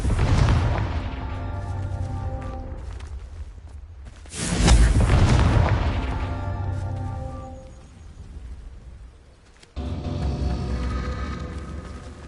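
Confringo blasting spell explosions from the Hogwarts Legacy video game, with booming bursts; the loudest blast comes near the middle, alongside game music and effects, and a second burst follows later.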